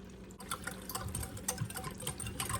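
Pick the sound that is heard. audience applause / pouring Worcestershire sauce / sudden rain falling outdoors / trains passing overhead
pouring Worcestershire sauce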